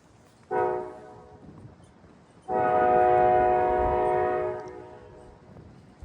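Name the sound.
K5 LA train horn on cab car signaling approaching train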